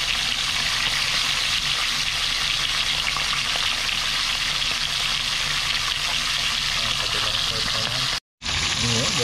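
Tilapia frying in hot oil, a dense continuous sizzle and crackle at close range, cutting out abruptly for a moment near the end before resuming.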